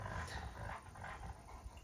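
Kangal dogs growling at each other, a short low rumbling growl with breathy pulses, close and fairly loud, alone without talk.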